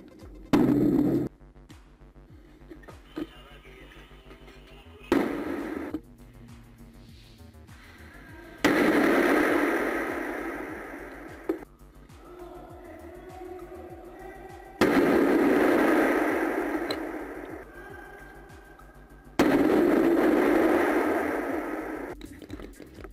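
Grenade explosions and gunfire in a shooter video game: a series of loud, sharp blasts, each with a long rumbling decay, repeat at irregular intervals with quieter stretches between them.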